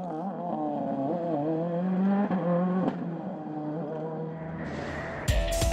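Rally car on snow tyres driving a snowy Monte Carlo Rally stage in 2014, engine note rising and falling steadily with shifting revs, fairly close and loud, with a brief sharper burst near the end, no talking.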